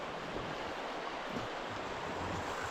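A steady rushing wash of a river flowing near Osmoloda, broad and continuous, with a faint breezy hiss and no voices.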